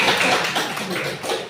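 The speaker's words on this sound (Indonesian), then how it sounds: "Tepuk tangan Bu dulu." A group of people in a primary school setting clap their hands together in a dense, continuous burst of applause lasting the whole moment, close and fairly loud.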